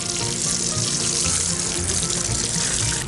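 Water pours steadily onto garlic planting medium in pots or polybags before planting, a dense continuous splashing and hissing rush that stays close and loud throughout, with no talk.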